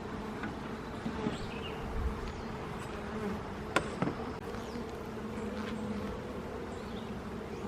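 Honey bees swarm and buzz around an open hive that is being fixed for a laying worker. A steady, dense drone fills the whole stretch at close range, with a few brief knocks and handling clicks partway through and no talking.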